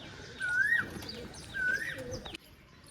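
Pigeons coo softly nearby in two separate bursts while pecking at feed in rainy weather, with a few faint chirps and some low background rumble between them.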